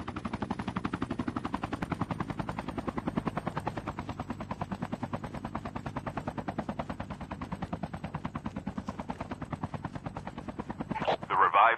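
An airdrop aircraft flies in during Call of Duty Mobile gameplay, its steady rotor-like chopping throb pulsing evenly and loudly for the whole stretch, with gunfire bursting near the end.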